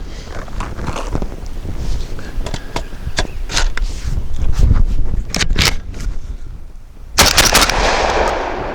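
SDS Imports Lynx 12 12-gauge shotgun firing a heavy 1 3/8 ounce number 5 pheasant load at 1250 feet per second, sharp loud reports outdoors with wind noise, ending in one strong blast near the end.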